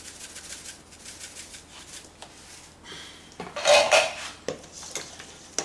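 Tomato sauce with oregano mixed in a bowl for a Chicago-style deep dish pizza, a run of soft clinks and scrapes from a utensil against the dish that grows louder into a brief burst of clattering near the end, with no talking.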